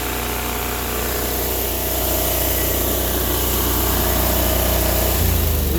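A Sears Suburban garden tractor with a front loader runs steadily nearby after fuel system repair, its small engine idling roughly with a constant uneven drone and a slight rise near the end.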